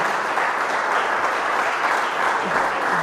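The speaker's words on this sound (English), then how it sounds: "Keep that clap going." Steady crowd applause at a live podcast taping as the audience keeps clapping for an arriving guest, a continuous dense patter at even loudness with a faint voice underneath near the end.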